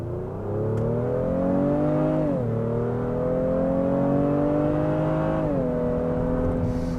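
A Honda Pilot V6 accelerating hard, its engine note climbing smoothly through the revs in a loud, near, sustained drone, dropping briefly at two gear shifts before rising again.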